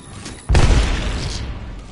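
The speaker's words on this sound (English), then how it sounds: "Grenade, watch out." A grenade going off in a PS4 shooter game: a sudden loud boom about halfway in, then a rumbling decay over quieter background game noise.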